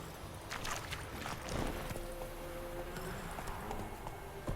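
Roach, a horse in the video game The Witcher 3: Wild Hunt, gallops with a steady, rapid clip-clop of hooves. The hoofbeats run close and fairly loud throughout over a rustling ground.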